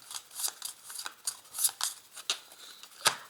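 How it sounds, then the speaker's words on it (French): Tarot cards shuffled by hand, a string of quick papery riffles and snaps in uneven bursts, close and fairly quiet, with no talking. "j'avais tiré 5 cartes au hasard que je remélange encore une fois"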